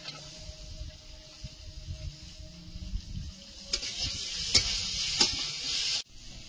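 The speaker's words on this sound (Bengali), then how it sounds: "ডাঁটাটা দিয়ে একটু ভেজে দিয়েছি" Vegetable stalks fry in a pan, with a soft sizzle and stirring scrapes close by that grow into louder hissing bursts before stopping abruptly.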